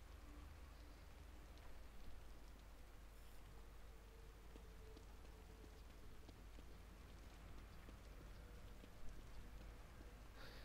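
Continuous steady rainfall in the video game The Evil Within, a soft even patter and hiss with no voices, low and unchanging for the whole stretch.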